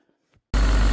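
The diesel engine of a 320L log loader, fitted with a new radiator hose, suddenly cuts in after a short silence and runs at a steady, loud high idle close by.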